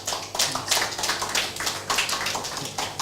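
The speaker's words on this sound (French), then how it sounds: "On le reçoit sous vos applaudissements." An audience claps for a speaker named Roland Crisbel as he arrives, with steady applause of moderate loudness that swells and eases in gentle waves.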